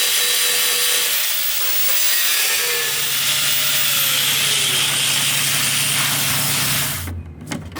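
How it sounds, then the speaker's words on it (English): An angle grinder screams continuously and loudly as it grinds out rivets on a wrecked ZR1 Corvette, a harsh close whine with shifting pitch that cuts off abruptly near the end. "those are rivets, so I'm gonna have to just grind that out"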